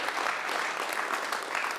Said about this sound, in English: And let's keep clapping.